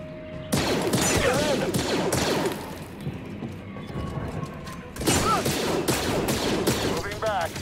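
Blaster fire rattles through a Star Wars Jedi: Fallen Order battle in rapid volleys of sharp energy shots, with a brief lull before another burst, mixed with mechanical clanks and thuds.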